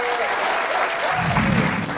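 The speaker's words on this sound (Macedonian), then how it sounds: "аплауз за Мешевски." A television quiz-show audience breaks into brief, lively applause for a contestant, swelling slightly toward the end, with a voice speaking over the start.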